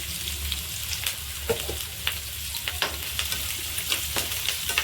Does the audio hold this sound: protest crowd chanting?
no